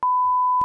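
A censor bleep used to mask swearing: one steady pure tone held for most of the moment, loud and alone, with brief clicks at its start and end.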